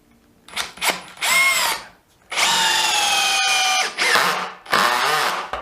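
A Hitachi DV 18DBFL2 cordless drill driving screws at full speed whirs loudly and close in four or five sharp bursts that rise and fall in pitch, separated by brief pauses, with no talking.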